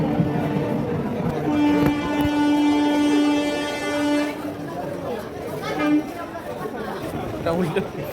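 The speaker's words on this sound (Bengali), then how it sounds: "একটা দিকে ট্রেন যাচ্ছে, আবার আর একটা দিকে ট্রেন আসছে" Two trains pass in opposite directions, rumbling with a long sustained horn blast, surrounded by crowd chatter and clattering wheels on the tracks.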